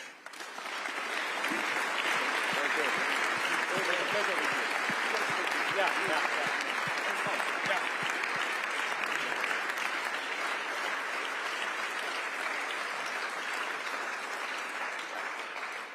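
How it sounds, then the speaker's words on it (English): Sustained applause from the audience at a panel discussion held at a security conference in Berlin, a broad steady wash of many hands clapping near the room, holding loud for the whole stretch and tapering slightly toward the end. "Let's give our two speakers a round of applause, please."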